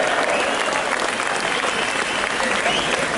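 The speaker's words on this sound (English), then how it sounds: "Let's hear some applause, yeah?" A large outdoor crowd at a London march by the FLA and Veterans Against Terrorism applauds an ex-SAS speaker, a dense, steady wash of clapping that stays loud and even from start to finish.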